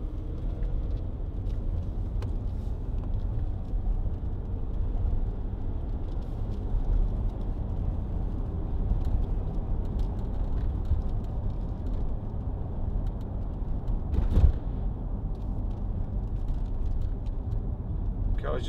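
Steady low road rumble and engine drone inside a Land Rover Range Rover Sport 3.0 SD V6 HSE 4x4 on the move, fairly quiet and continuous with tire noise throughout.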